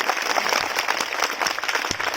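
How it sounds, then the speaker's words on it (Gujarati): A crowd claps loudly in honour of Indian soldiers at a temple consecration gathering in Saviyana, a dense, steady wash of applause throughout with no talk. "ભારતીય જવાનોના માનમાં સાહેબ જોરથી તાળી પડવી જોઈએ"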